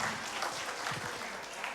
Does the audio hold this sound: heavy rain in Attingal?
no